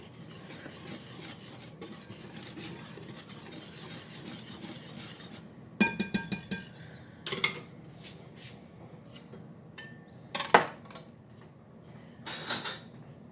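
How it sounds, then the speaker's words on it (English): A whisk combining dry muffin ingredients with sugar in a bowl: a soft, steady stirring rasp, then sharper clinks and taps of metal against the bowl in short bursts toward the end. "Let me get my whisk. And we're going to combine all of our dry ingredients like so."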